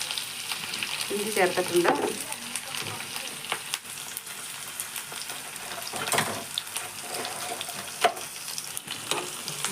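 Green chilies and ginger sizzle in a pan while being stirred, for a Kerala sardine dish with chili, with scraping and clinking of the spoon and a brief spoken remark early on.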